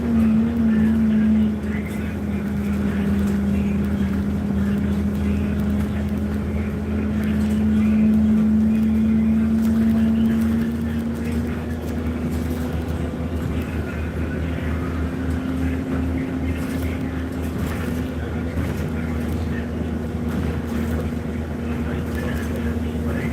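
Steady engine drone and road rumble inside a moving bus, a continuous low hum with a faint tonal whine running throughout, with no talk.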